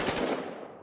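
A single 5.56 caliber rifle gunshot recorded for the Battlefield Hardline video game cracks sharply up close, then blooms and decays into a fading reverberant tail.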